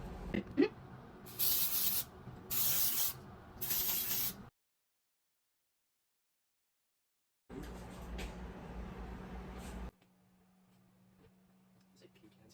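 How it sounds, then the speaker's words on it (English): Three short hissing bursts of cooking spray onto cake pans in quick succession, then a longer hiss later, with voices talking around them. "Do you want to spray them? I would love to spray them."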